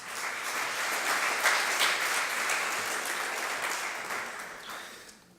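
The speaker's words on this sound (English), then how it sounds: "So please give a warm applause to Kurt van den Bergen" Sustained audience applause at an evening open science symposium welcoming a European Commission policy director to the stage, a dense steady wash of many hands that holds for several seconds before tapering off.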